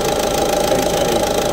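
A Peugeot 2008 with an AdBlue fault idles nearby, a steady, loud mechanical rumble with a faint knock running unchanged throughout before cutting off abruptly at the very end.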